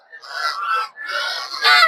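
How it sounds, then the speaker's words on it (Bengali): Raja hans geese honk loudly and repeatedly at a Saturday poultry market in Puthia, with overlapping calls from the flock continuing throughout and near. "আপনারা রাজা হাঁস দেখতে পাচ্ছেন"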